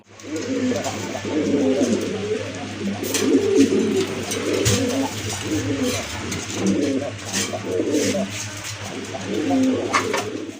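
Soft, repeated coos of Daukа pigeons murmur in a steady, close chorus, with a low constant hum underneath and occasional faint rustles.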